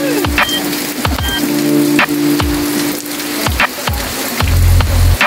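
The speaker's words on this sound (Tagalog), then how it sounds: "kasi malakas ang ulan" Heavy rain pounding down in the mountains, a dense continuous patter with sharp drips and splashes striking a nearby surface, loud and close with no talk.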